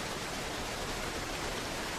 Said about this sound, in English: So we got the waterfall here.